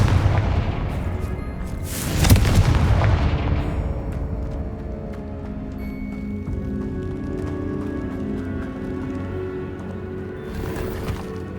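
A Confringo fire spell blasts in Hogwarts Legacy, a single loud booming burst near the start that rolls off into a long rumbling decay, with a fainter rush near the end and no talk.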